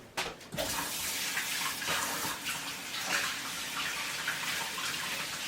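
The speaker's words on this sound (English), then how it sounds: "I need to wash my hands right quick" Water runs steadily from a kitchen sink tap while hands are washed, a continuous close splashing hiss after a brief clunk at the start, with no talking.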